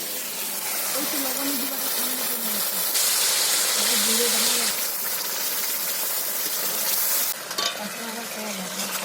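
Chili and turmeric powder mixed with water being stirred and sautéed into a spice masala in a pan at a village home, giving a steady close sizzle and hiss with stirring scrapes throughout, a voice murmuring faintly beneath.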